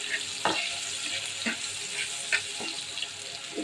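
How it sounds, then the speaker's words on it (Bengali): Potatoes with salt and turmeric fry in a pan, giving a continuous bright sizzle broken by a few sharp scraping clinks of stirring, moderately close and with no talk. "কবুতরের আলুগুলো সুন্দর করে ভেজে নিই"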